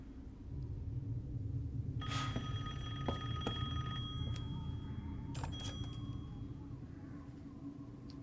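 A telephone ringing in the video game Resident Evil Village, with repeated bright electronic rings starting a couple of seconds in, heard over a steady low ambient rumble.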